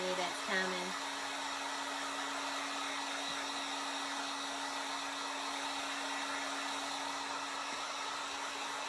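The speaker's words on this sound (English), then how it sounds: "This is a heat gun for those that came on late" A heat gun drying paint on a craft fall topiary blows a steady, even whir for several seconds, close and constant, after a brief voice at the start.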